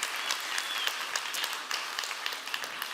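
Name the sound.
audience applause at a pitch event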